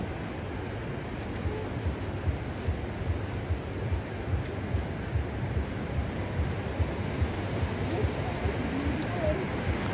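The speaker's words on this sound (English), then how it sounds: "This is the Parvati river that is flowing" The Parvati river in the Manali area rushes steadily as a dense, continuous wash of water noise with no break, up close and loud, with wind buffeting the microphone throughout.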